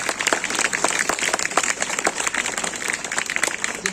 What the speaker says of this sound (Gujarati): સૌથી વધારે તાળીઓ એના માટે પાડજો